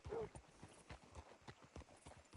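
Horse hooves clip-clopping in Red Dead Redemption 2, a steady walking rhythm of close hoof strikes, fairly faint, with a short snort or whinny at the start.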